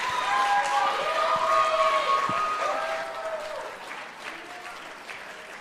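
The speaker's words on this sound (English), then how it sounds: "Can we get one more big round of applause, please?" A school audience at a Grade 9 Youth and Philanthropy Initiative presentation at Brentwood College School breaks into close, steady applause with voices calling out over it, tapering off toward the end.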